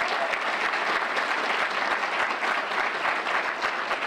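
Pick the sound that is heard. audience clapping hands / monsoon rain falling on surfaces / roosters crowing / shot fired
audience clapping hands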